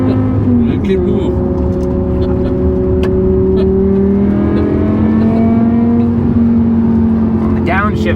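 A BMW M6 V10 with an F1-style exhaust revs and downshifts nearby, its loud engine tone rising and falling in smooth sweeps while voices talk over it.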